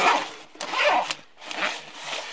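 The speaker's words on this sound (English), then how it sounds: "The actual main pouch has the same security zippers." Security zipper on the main pouch of a Vanquest Trident 20 backpack being pulled open in several close, scratchy strokes with brief pauses between them.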